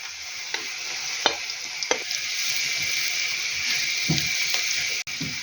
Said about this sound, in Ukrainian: Цибуля трошки посмажилася вже і додаю сюди морку